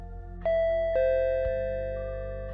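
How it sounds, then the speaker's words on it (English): Electronic door chime rings out a series of bright, sustained tones, each note struck and left to ring over the last, loud and close in a quiet room. "That's when the door chime rang."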